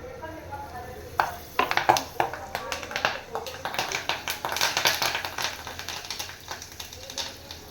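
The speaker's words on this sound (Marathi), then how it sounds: "तेलामध्ये हिंग घालून घेतलं आहे मी. आणि कढीपत्ता." Asafoetida and fresh curry leaves frying in hot oil, giving a steady crackling sizzle with sharp pops and clicks scattered through it, close and moderately loud.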